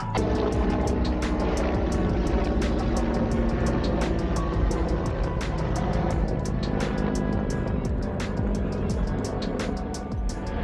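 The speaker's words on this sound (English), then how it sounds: "Rescue helicopter giving us a flyby." A rescue helicopter flies past a boat crossing the Wide Bay Bar. Its rotor makes a steady rhythmic chop over a continuous loud engine and water rumble that stays heavy throughout.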